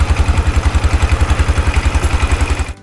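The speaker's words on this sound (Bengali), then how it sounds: "ট্রলারের ইঞ্জিনের শব্দের কারণে আমি ভয়েস রেকর্ড করতে পারিনি" A trawler boat engine runs on a river near Nijhum Dwip with a loud, close, steady rapid thumping that cuts off abruptly at the end.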